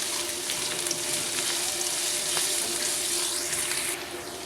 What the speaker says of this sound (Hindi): चॉप की हुई प्याज डालते हैं, अच्छे से फ्राई कर लेते हैं